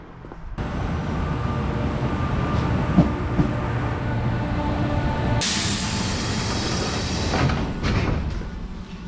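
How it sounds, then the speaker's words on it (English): A train bound for Himeji, Japan, rumbles steadily on the rails, with a brief high whine and a sharper hiss of brakes or air partway through, heard from close by. "This is the train that goes to Himeji."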